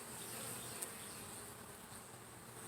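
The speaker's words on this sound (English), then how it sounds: "You can see some of the bees that they're coming out of the beehive" Honeybees at a backyard beehive entrance make a dense, steady buzzing hum, close and continuous, with one brief louder pass.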